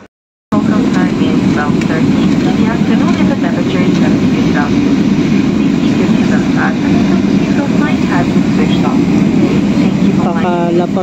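Steady, loud ambience inside Arlanda Airport in Stockholm, Sweden: a dense wash of crowd murmur and hall noise with scattered distant voices throughout.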